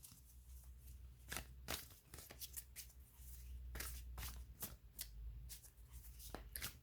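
Tarot cards riffled and shuffled by hand, a series of quick crisp ruffling bursts with soft handling between, close and fairly quiet.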